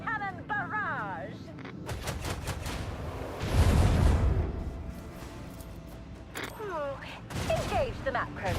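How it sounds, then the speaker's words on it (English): A warship's macro cannon barrage in Rogue Trader rumbles as a rapid fusillade of heavy booms, swelling into a loud low roar midway, with a voice talking over parts of it. "Initiate macro cannon barrage."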